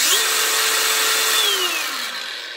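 A DeWalt DCG 405N 18V cordless angle grinder spins freely at no-load, a loud steady high whine that holds level, then drops in pitch as it begins to wind down.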